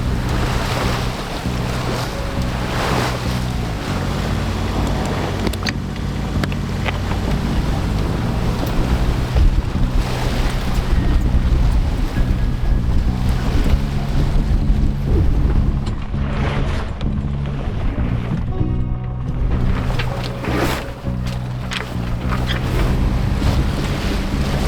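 A sailing boat cruises along the sea approaching Kangaroo Island, with waves washing against the hull and strong wind buffeting the microphone in a continuous loud rush, no voices.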